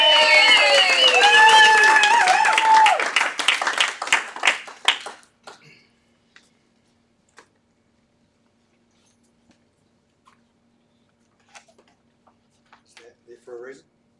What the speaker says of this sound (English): a great round of applause, please, to Hamish Drumm